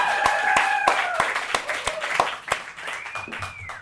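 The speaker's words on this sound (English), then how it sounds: "applause for that" Sparse applause from a small audience at KGB Bar, a handful of distinct, separate claps spaced through the stretch, with tonal voice-like sounds audible in the background.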